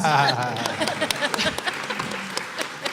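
Audience clapping at a live neighborhood conversation event in Columbus, a short burst of applause mixed with a voice talking over it.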